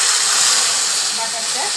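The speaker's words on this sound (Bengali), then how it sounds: "বাটারটা দিয়ে দিলাম" Butter dropped into hot oil in a Bengali kadai sizzles with a loud, steady broad hiss close up, easing slightly toward the end.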